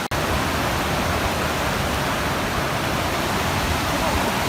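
A flowing creek on the Gold Creek Circuit trail gives off a dense, constant rush of water, close and steady from start to finish.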